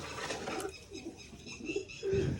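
A pair of pigeons perched on a pigeon umbrella coo softly in low, rounded bursts, the calls coming near and fairly quiet against faint background noise.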